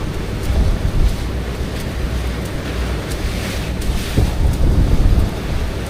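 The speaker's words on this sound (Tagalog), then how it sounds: "kalmada ang dagat" Calm sea waves and wind rush past a moving fishing boat on the open Pacific, a steady broad wash of water with low engine rumble and buffeting wind, no voices.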